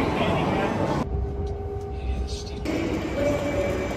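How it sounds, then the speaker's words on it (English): A London Underground train travelling from Heathrow Airport into London rumbles steadily throughout, with a quieter stretch of the ride midway and a thin wheel squeal near the end, while voices murmur faintly in the carriage. "We're gonna be taking a train from Heathrow Airport over to"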